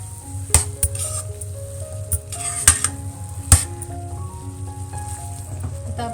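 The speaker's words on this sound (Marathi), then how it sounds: "आता मी याच्यामध्ये दही ॲड करते." Yogurt goes into a hot pan of veg biryani gravy, giving a soft sizzle with sharp clinks and scrapes of a spoon against the metal pan at irregular intervals.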